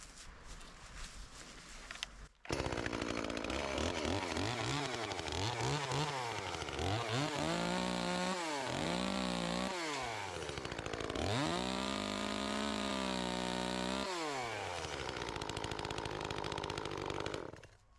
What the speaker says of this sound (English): I use a chainsaw. I'll start by cutting it back here, and then I'll do another cut here.